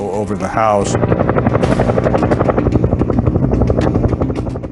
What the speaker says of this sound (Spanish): Un día un helicóptero pasó volando bajo, muy bajo sobre la casa.